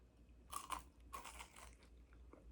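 Crisp crunching bites into a flaky egg tart, two close sharp crunches followed by a longer crackling bite and softer chewing, no talking.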